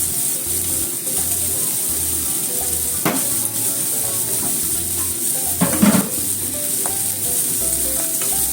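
Zucchini, tomato and egg stir-frying in a pan, a constant loud sizzle with occasional stirring scrapes and a few clatters from the utensil against the pan, close and continuous, without talk.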